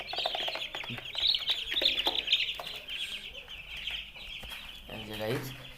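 Nine-day-old broiler chickens crowd around a feeder, giving a dense, steady chorus of high cheeps and clucks close by, with a brief voice near the end.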